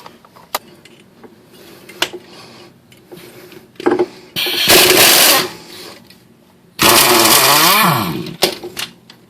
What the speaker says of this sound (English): We're going to remove the 3 nuts or bolts on the back side.